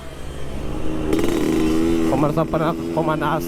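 A Yamaha RX King motorcycle engine warming up, a close two-stroke rumble that revs up and holds with rising and falling pitch sweeps, while people talk over it.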